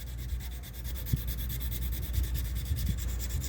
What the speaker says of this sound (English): I'm going to jump from 220 to 600 grit sandpaper